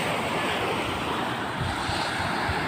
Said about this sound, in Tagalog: Dito tayo sa tabing dagat.